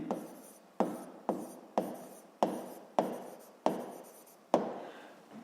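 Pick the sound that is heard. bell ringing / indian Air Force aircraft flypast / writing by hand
writing by hand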